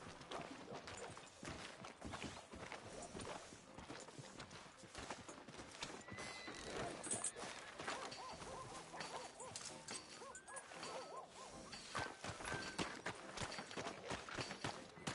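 Horse hooves clip-clop in an open-world Western video game, set in a town street, the steady hoofbeats mixed with neighs and whinnies, ambient game sounds and a faint dog bark, fairly quiet with no talk.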